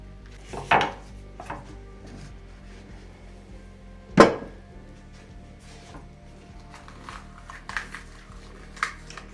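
A knife chops sweet peppers into cubes on a board for a pepper sauce: a few sparse, sharp chops, one loud strike in the middle and lighter scattered taps, close and clear.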